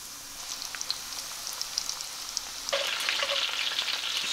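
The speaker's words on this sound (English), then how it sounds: "We'll come back in with the fish and get them fried up." Fish hitting very hot oil in a pan sets off a steady, dense frying sizzle that grows louder partway through and then holds as a close crackling hiss.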